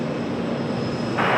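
FedEx heavy jet landing at Raleigh-Durham airport, heard as a steady broadband roar of jet engines that swells louder near the end, with no talk.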